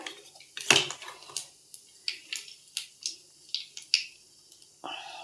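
A cooking pot for vegetable chorchori is set on a kitchen stove, giving a series of light metallic clinks and clatters spaced irregularly, close and fairly quiet, with a brief scraping sound at the end.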